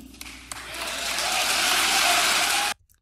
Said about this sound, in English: Why are you all applauding about that?